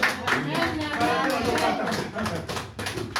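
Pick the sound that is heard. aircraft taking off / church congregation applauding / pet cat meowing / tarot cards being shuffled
church congregation applauding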